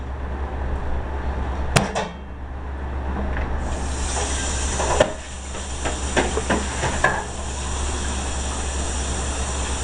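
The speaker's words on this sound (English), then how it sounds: "Butter goes into the pan." Butter melting in a warming pan gives a steady broadband hiss that jumps up after a few seconds and runs on with crackling pops, over a constant low hum.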